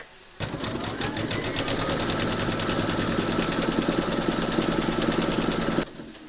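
An embroidery machine stitches around the border of fabric held in a hoop, starting abruptly and running for several seconds as a loud, close, rapid mechanical chatter before stopping, with no one speaking.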